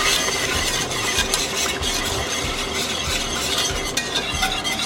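Beef stock being whisked into a flour roux for poutine gravy, a steady close scraping and stirring swirl with faint sizzle, continuous and fairly loud throughout with no talking.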